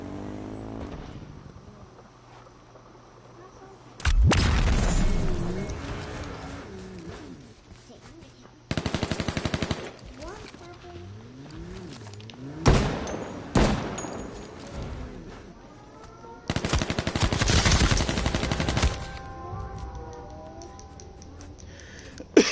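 Bursts of Desert Eagle pistol fire in the H1Z1 video game, several loud volleys separated by quieter gaps with mechanical game noises and clicks in between.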